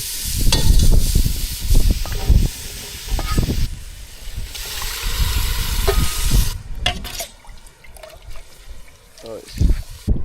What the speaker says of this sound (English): We got some extra virgin olive oil and onion kind of sauteing.